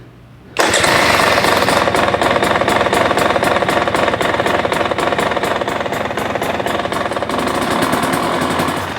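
A Kawasaki KX450F dirt bike engine fires up abruptly and runs loud and close, with a rapid, rattling single-cylinder idle that stays steady throughout.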